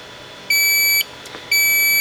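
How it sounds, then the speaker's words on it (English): An electronic alarm on a SwathPRO system sounds at power-up, giving two sharp, high steady beeps about half a second each with a short gap between, loud and alone. "you will get an audible alarm as soon as it's powered up"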